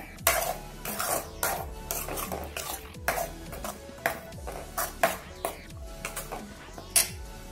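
Masala being sautéed in a pan for Tamil-style goat trotter curry (aattukaal kulambu), with repeated spoon scrapes and stirring clinks against the pan over a low sizzle, steady and close, with no talking.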